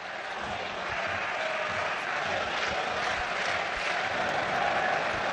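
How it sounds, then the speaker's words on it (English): A stadium crowd at the Arsenal vs Nottingham Forest League Cup football match gives off a continuous, even roar, distant and fairly faint, without distinct peaks. "We may have heard the cheer at the other end of the field."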